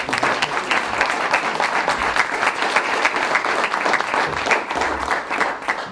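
Audience at a citizens police academy session applauds the training unit with steady, moderately loud clapping throughout, no talk on top.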